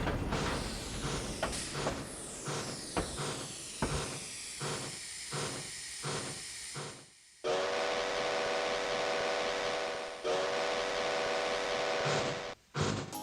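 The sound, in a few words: steam train whistle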